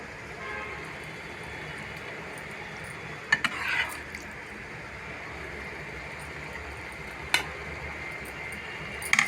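Cooked prawns are stirred into a pan for prawn dum biryani. Occasional faint spoon taps and scrapes sit over a steady background hiss, with a voice speaking softly alongside.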